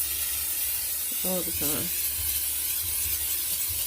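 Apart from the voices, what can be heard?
olive oil spray sprayed into air fryer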